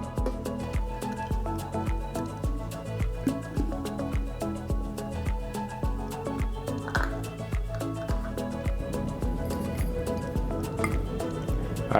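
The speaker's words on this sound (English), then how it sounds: "Now I'm gonna bottle the puree." Thick homemade peach puree drips and plops into a bottle in a quick, regular rhythm of soft wet squelches, close and fairly loud, with no talk.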